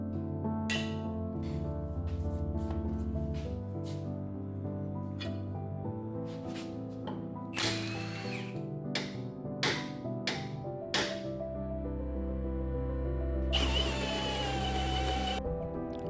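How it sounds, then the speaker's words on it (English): A drill motor runs in steady stretches with starts and stops, its harmonic whine grinding through metal while drilling out a lower ball joint taper to a one-inch hole, close up, with occasional clanks between bursts. "I'm drilling out the lower ball joint taper to a 1-inch diameter hole"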